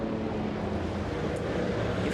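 Vintage modified race car with a heavy, top-heavy body and an old Flathead V8 engine, racing in a vintage flathead modified feature at Concord Speedway; a steady, distant low engine drone continues throughout.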